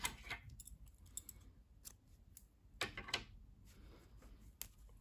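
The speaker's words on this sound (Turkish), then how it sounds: "İpliği kesiyorum." Scissors snip knitting yarn at a quiet, close workspace, a few sharp clicks and small clatters spaced irregularly with no voices.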